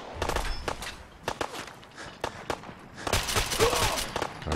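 Rapid bursts of gunfire in Fallout 4 as a raider is shot through a fence, clustered sharp cracks with a heavier volley near the end, loud and busy over game ambience, no talking.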